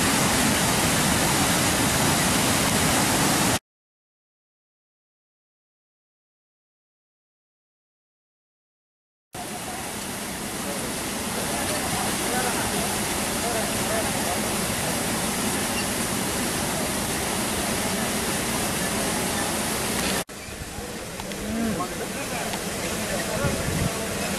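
Water from the opened Sathanoor dam rushes in a loud, steady roar that fills the recording, broken by a stretch of silence before the torrent resumes and continues without letup.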